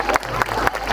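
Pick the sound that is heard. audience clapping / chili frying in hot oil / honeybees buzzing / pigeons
audience clapping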